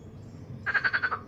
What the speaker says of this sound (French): Il y a des petites grenouilles